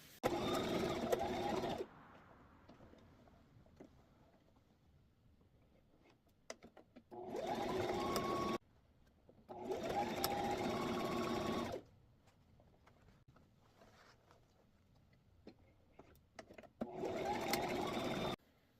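A sewing machine stitches fabric for an Easter basket, running in four separate loud, whirring bursts of a second or two each, with quiet pauses and soft handling noises in between.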